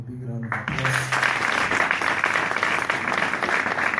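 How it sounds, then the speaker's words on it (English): After a brief moment of voice, a church audience breaks into sustained, loud applause that fills the rest of the moment. "give them a big round of applause"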